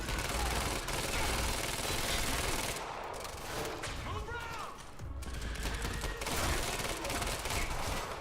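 Bursts of automatic gunfire from the Quantum Break video game, rapid rattling volleys filling most of the stretch with brief pauses, mixed with game effects and a voice speaking underneath.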